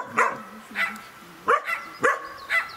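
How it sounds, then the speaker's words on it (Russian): A dog barks five times in a steady, evenly spaced series, each bark sharp and fairly close, with no talking over it. "Собачка хорошая."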